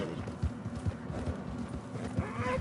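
A horse gallops in Red Dead Redemption 2, its hooves drumming in a steady rhythmic beat at close range over a wash of outdoor game ambience.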